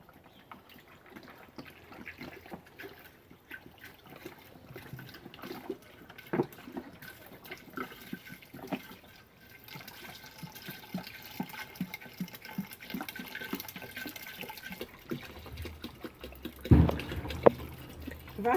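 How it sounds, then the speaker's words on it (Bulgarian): Water being poured into a pot already holding sliced lemons and a kilogram of sugar for homemade lemon balm juice, a faint, drawn-out trickle and splashing that grows louder toward the end with small clinks. "Почвам да сипвам вода."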